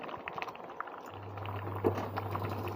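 Pumpkin greens and stalks simmering in a pot, a soft, steady bubbling and pattering close by with a low hum joining partway through.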